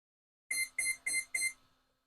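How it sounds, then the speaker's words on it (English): Four quick, evenly spaced electronic beeps from an RC plane's electronic speed controller, high-pitched and close, each short and sharp, followed by silence. "These are fast beeps."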